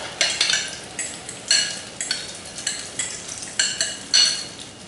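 Beaten egg sizzles in a hot frying pan for an Italian frittata, a steady soft hiss punctuated by a rhythmic series of sharp scraping and stirring clicks, close and fairly loud, with no voices.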